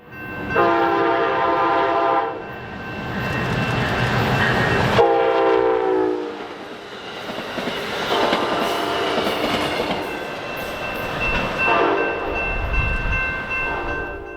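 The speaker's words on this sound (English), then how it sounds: "here came Amtrak Cascades 502, daily service from Portland, Oregon to Seattle, Washington, running about 2 hours behind schedule" Amtrak Cascades passenger train from Portland to Seattle passing close, sounding several loud sustained horn blasts over the rumble and clatter of wheels on rail.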